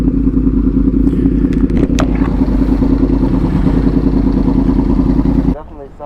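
Yamaha R1 sport motorcycle riding away, a loud steady engine drone with some rattling clatter and a few sharp ticks, holding strong before cutting off abruptly near the end.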